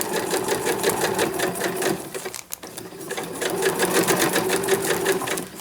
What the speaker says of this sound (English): I'm going to back stitch a little bit